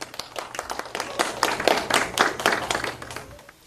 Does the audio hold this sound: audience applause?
yes